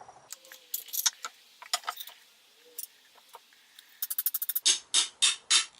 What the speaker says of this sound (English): Same method, score a line and tap.